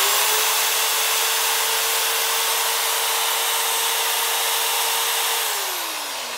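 A cordless power drill, run off a Geneverse HomePower Pro 2 portable power station, whines at a steady high pitch for several seconds, then winds down as the trigger is released, with no talking.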